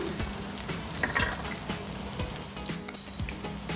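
Chicken keema is stirred and smashed in a sizzling pan, with continuous frying hiss and repeated scraping, pressing strokes of a spatula close by, no voices.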